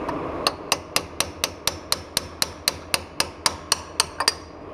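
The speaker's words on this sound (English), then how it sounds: "I have a special chisel that I have ground a nice round edge into for pounding these shims in" Rapid, steady hammer taps on a rounded chisel seat shims into an Eaton E-Locker during a Jeep JK Dana 30 install, about fifteen sharp metallic strikes ringing close and clear with no voices.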